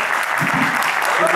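An audience at a conference applauds a guest taking the stage, a close, loud burst of continuous clapping filling the short moment.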